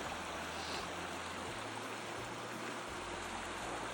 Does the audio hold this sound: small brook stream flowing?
yes